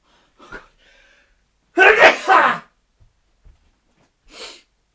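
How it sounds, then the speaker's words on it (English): A single loud human sneeze indoors, preceded by a quick sharp inhale and trailed by a short snort a moment later, otherwise quiet. "I feel like I need to sneeze."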